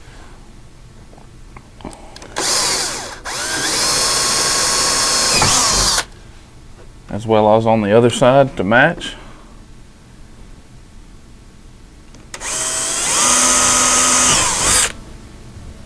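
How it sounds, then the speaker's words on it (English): A power drill whines loudly through the plastic of a cab enclosure on a Honda Pioneer 1000 Crew utility vehicle in two sustained bursts, separated by a short spoken remark, with the motor pitch shifting as it cuts. "We're going to drill the plastic right here."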